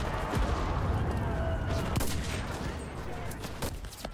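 Dense gunfire and explosive artillery booms roll together continuously in the Enlisted shooter game, loud and chaotic, with a few sharper blasts standing out.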